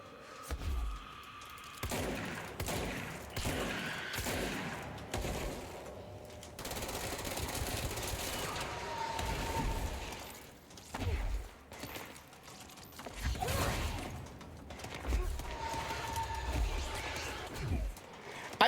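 Gunfire fills a shooting fight in the video game Control, with rapid automatic bursts and scattered shots over a dense rumble of combat noise, moderately loud and continuous throughout.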